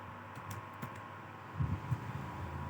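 Someone types C code on a computer keyboard in a short, light burst of key clicks, a few louder taps near the end over a faint steady hum.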